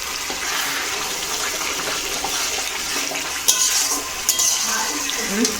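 Steady frying sizzle with stirring and a few scraping clinks of a utensil against a pan, close and continuous throughout.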